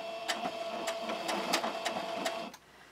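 A sewing machine stitches forward and then backward while bordering a patchwork piece. It gives a close, rapid, rhythmic mechanical chatter of stitch pulses for about two and a half seconds, then stops.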